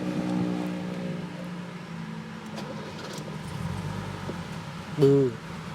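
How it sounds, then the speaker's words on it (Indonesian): A 1985 Mercedes-Benz W123 manual car engine starts and runs at a steady, low idle with a deep rumbling hum, close by, and a brief sharper burst of sound near the end. "Kita coba nyalain mobilnya."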